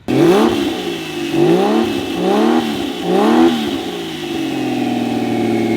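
A car engine revs hard three times in a row, roaring up and dropping back, then settles into a steady, loud idle.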